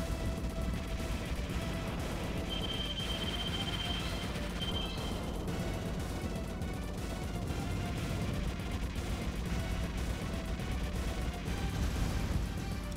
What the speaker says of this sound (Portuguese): Muito rápido, cara, o tiro dele.